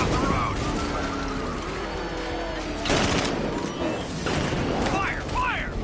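Gunfire in Batman Arkham Knight during a vehicle chase, repeated loud shot bursts and blasts over a steady engine-like rumble, with shouted voices and whistling effects.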